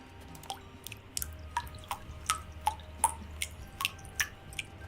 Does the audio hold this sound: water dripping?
yes